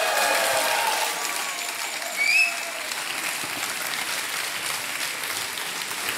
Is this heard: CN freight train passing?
no